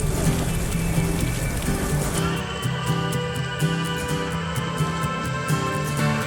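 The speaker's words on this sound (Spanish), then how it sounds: "se vino el aguacero" A heavy rain downpour in Trieste, Italy: a dense, steady wash of rain on surfaces, loud and continuous, with scattered drips and splashes nearby throughout.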